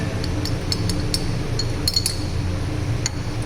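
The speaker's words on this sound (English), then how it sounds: "Mixing it very nicely, then again dipping the glass rod" A glass stirring rod clinks against a glass titration flask holding a hematite ore solution, giving a quick run of light bright taps up close over a low steady background hum.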